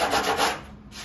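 An epoxy windsurf board's nose repair gets its edge sanded by hand, a close, loud rasping scrub in a few strokes that eases off briefly near the end.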